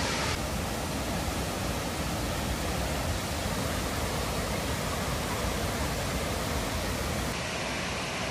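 Water rushes down over huge rocks in a stream along the Mountains to Sea Trail, a steady, close, full roar of churning flow with no voices over it.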